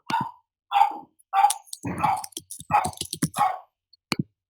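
A pet dog barks in a quick series of sharp, close, loud woofs, about seven or eight in a row with short pauses between them, and no other sound underneath.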